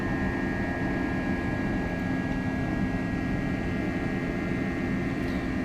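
Simulated Airbus A321 engines in an FSLabs flight simulator at takeoff power: a constant, even jet drone with a thin steady whine riding on top, unchanging throughout.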